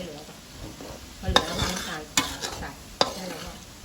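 Garlic frying in oil until crisp, Thai style, as a utensil stirs it in the pan: three sharp clacks against the pan over a rising and falling sizzle, close by.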